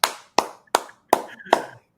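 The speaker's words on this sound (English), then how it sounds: "let's hear some claps." Five separate, sharp hand claps land in a slow, slightly uneven rhythm, close and distinct, with a faint murmur of voice between the later claps.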